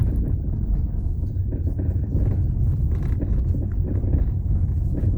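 Chevrolet Onix with a fault in the steering, giving a steady low rumble and road noise throughout, moderately loud and close with some wind buffeting on the microphone.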